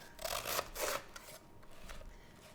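A knife slices through a cabbage to halve it for slaw, giving two quiet, crisp crunching cuts close by, followed by faint handling sounds.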